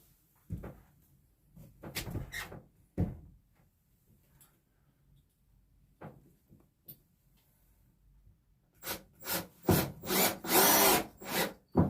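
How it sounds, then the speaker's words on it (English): Power drill countersinking 1.5 inch screws into wood for an RV underbelly, heard as a few short whirring bursts early on and a louder cluster of drilling bursts near the end, with quiet pauses between. "Oh yeah, I can countersink that quite a bit"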